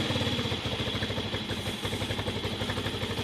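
A Romet K 125 motorcycle idles after a cold winter start with the choke not holding, a steady rapid, clattery engine pulse close by, slightly uneven in loudness.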